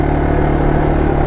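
Engine of a 1983 Yamaha Tri Moto 200 three-wheeler on a test drive, a loud, steady close-up drone holding at constant speed with no talk.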